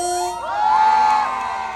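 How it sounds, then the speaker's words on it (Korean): A concert crowd at the Mungyeong Hello Concert cheers loudly, a swelling roar of whoops and shouts with a bright whistling tone rising and falling over it. "큰 함성과 박수"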